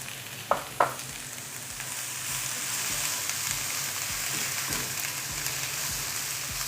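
Shallots, onion, garlic and ginger sauté in a hot pan for chicken kondattam, giving a steady, close sizzle. Two sharp clicks come near the start, then faint stirring scrapes sound over the constant frying hiss.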